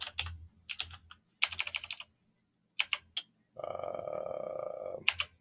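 Typing on a computer keyboard in short bursts of quick clicks separated by pauses, close and clear, with a soft steady hum joining near the end.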